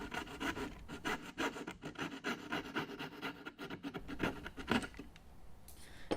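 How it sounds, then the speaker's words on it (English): A coping saw cutting waste from wooden dovetail tails, a rapid rhythmic rasping stroke after stroke, close and steady for several seconds before easing off. "I'm just taking out the waste with a coping saw."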